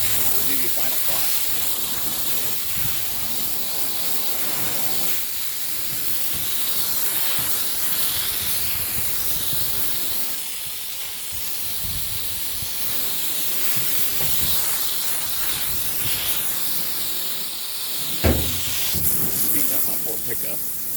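A continuous hissing water spray rinses a pickup truck used as a test panel for car wax, steady and close with brief dips, while someone talks over it.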